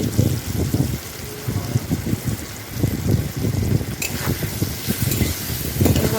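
Cut potatoes hit hot oil already dusted with turmeric, producing a loud, close sizzle with rhythmic bursts as they are stirred and tossed in the pan; nobody speaks.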